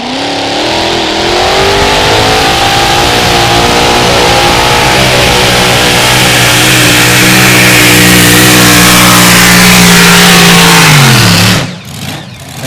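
A mini modified tractor-pull engine at the 2023 European Championships roars loud and close in a sustained, climbing howl with strong harmonic whine. It winds down sharply near the end and is followed by rumbling.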